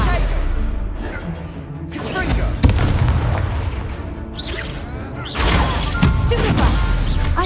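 Stupefy spells cast during a duel in Hogwarts Legacy: loud booming blasts and whooshing impacts, with a sharp crack partway through and another surge of rushing noise toward the end.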